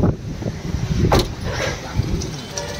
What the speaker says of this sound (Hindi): तो गाड़ी फ्रेंड्स स्टार्ट हो चुका है